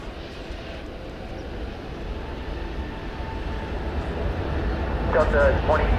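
A jet taking off from runway 18 left at DFW Airport at night, a steady broadband engine roar that builds slightly toward the end, with voices talking over it.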